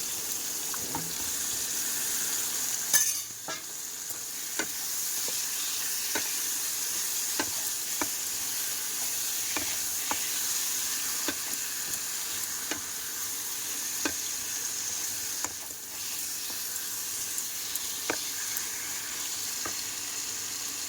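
Meat frying in a pan gives a steady, even sizzle throughout, with scattered small pops and crackles and one brief louder clatter near the start.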